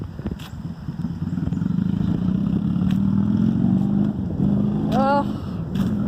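A Yamaha XS 650 motorcycle being ridden gives a steady, low engine drone that carries through the whole stretch with a slight rise in pitch partway, loud and fairly close.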